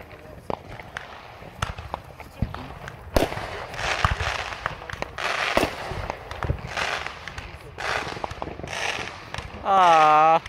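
Fourth of July fireworks bursting in repeated loud cracks and booms across several seconds, with a rising whistle near the end; people talk faintly at times between the blasts.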